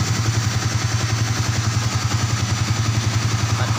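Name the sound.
Yamaha Vixion motorcycle engine idling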